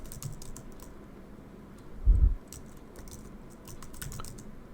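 A password is typed on a computer keyboard in quick irregular bursts of key clicks, close and clear, with one heavier thump partway through.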